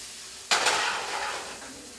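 Vegetables hit a hot sauté pan with a sudden loud sizzle burst that settles into a steady hiss and fades over a couple of seconds, close up with no voices.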